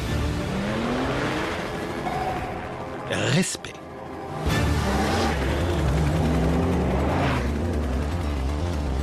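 Porsche 911 GT2 of the 997 generation with a 3.6-litre twin-turbo flat-six making 530 horsepower, revving and accelerating loudly, briefly dropping out and then surging back, with tire noise and a short spoken word over it.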